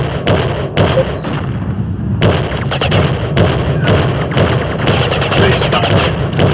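In the video game Battlezone Combat Commander, weapon fire sounds as loud, repeated thuds and shot bursts over a dense, continuous battle rumble.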